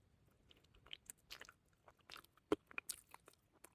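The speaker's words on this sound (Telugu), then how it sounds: "ఇదిగోండి ఇప్పుడు తింటున్నాను" Someone eating campfire-fried chicken outdoors in a forest: sparse, close bites and crunchy chewing, with soft irregular clicks and smacks separated by quiet gaps.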